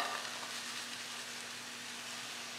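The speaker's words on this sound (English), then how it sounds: "I'm going to saute these, and then I'm going to add the bean sprouts in last" Mixed vegetables for spring rolls sauté in butter in a hot pan, a steady, even sizzle holding at a constant level throughout with no voices.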